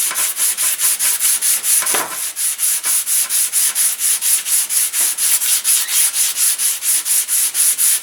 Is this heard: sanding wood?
yes